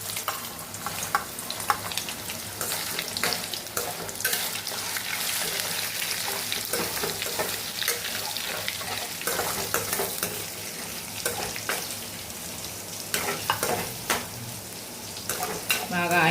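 Soya chunks (meal maker), squeezed of water, sizzle and crackle steadily in hot oil for a pickle, loud and close, with occasional stirring clatter and no talk.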